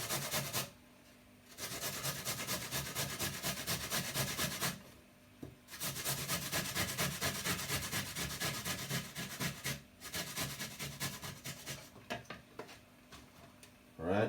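Fresh ginger root scraped on the fine side of a kitchen grater, a steady rasping rub in long bursts separated by brief pauses, close and fairly loud.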